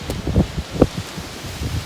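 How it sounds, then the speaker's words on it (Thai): Wind gusting through a forest in Denmark, a steady low rumble of microphone buffeting with soft rustling and a few louder gusts, close and continuous with no voices. "อันนี้เป็นป่า ลมพัดคืออย่างนี้"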